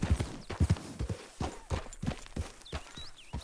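Horse hooves clip-clop in a quick, steady rhythm, close and clear, with faint chirping tones and a soft snort in the background, from the video game Red Dead Redemption 2.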